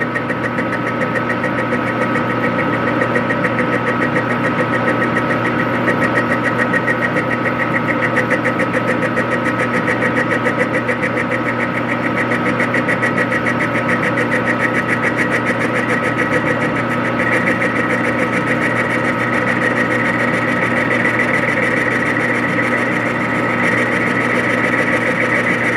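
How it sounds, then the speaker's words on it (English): A machine cutter cuts the rim of a cast wheel for a Raritan riding car at a 3-degree angle, making a loud, steady mechanical drone with a constant hum that runs unbroken throughout. "now I'll start cranking it. It's going to move the cutter at the 3-degree angle."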